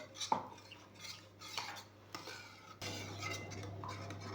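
A spoon stirs melted margarine mixed with vegetable oil in a bowl, giving soft scraping swirls and a few light clinks against the dish at close range, with a steady background hum and no talk.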